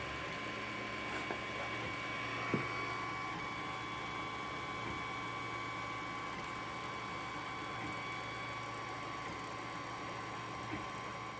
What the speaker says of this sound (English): this is one in action. And at this moment in time I'm printing the first layer of the fan cowl